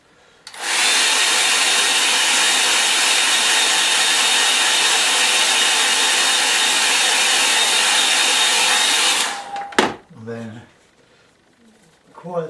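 Hair dryer blasting air over a watercolour painting, a loud steady broadband roar that starts abruptly, holds for about nine seconds and then cuts off, followed by a brief voice.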